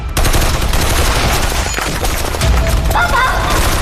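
Gunfire in a movie battle scene: dense, continuous loud crackling volleys layered with booms and a busy, noisy background, with shouting voices mixed in.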